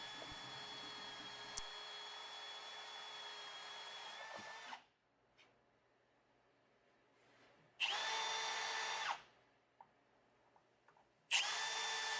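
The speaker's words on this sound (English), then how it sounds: "We are now following up with a larger drill bit to widen the hole" A power drill with a larger bit widens a hole in a Jeep, whining steadily for several seconds, cutting out, then revving again in two shorter bursts, loud and close with quiet gaps between.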